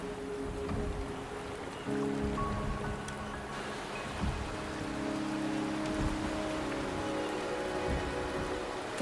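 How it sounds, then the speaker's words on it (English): Steady rain falls throughout a scene in the video game Wuthering Waves, a dense, even patter on surfaces with soft low rumbles and no voices. "The rain is subsiding."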